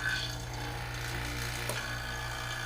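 A Nasan Supa Lite Max vacuum laminator with an empty chamber runs its pump to draw the air out, giving a steady, close mechanical hum with a low droning tone throughout.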